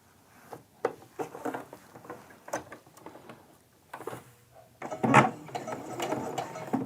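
Sewing machine stitching a quarter-inch seam on fabric triangles for a quilt, running in short irregular bursts of rapid needle patter, then a longer steady stretch of stitching up close.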